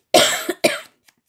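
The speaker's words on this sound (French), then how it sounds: "je m'en sors toujours pas de cette toux" A woman coughs twice, close and fairly loud, each a harsh burst of two or three quick expulsions, followed by a couple of faint clicks in near silence.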